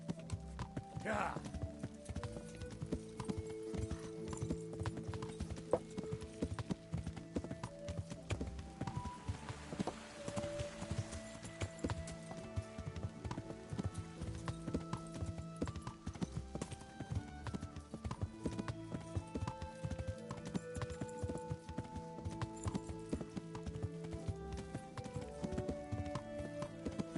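A horse trots along a road in Kingdom Come: Deliverance, its hooves giving a steady, even clip-clop rhythm throughout under background music, with an occasional snort or whinny.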